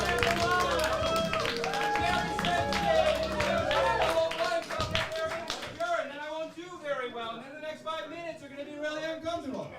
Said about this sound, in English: Make it clapping noises.